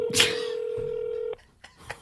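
Telephone keypad tones ring out as a number is dialed to place a call, a long steady tone followed by a few short beeps, close and alone without talk.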